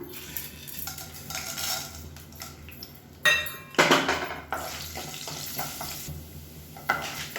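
Chana dal and urad dal frying in hot oil: steady sizzle with scraping stirs and occasional metal clinks from a pan, close by, with a couple of louder bursts of crackle.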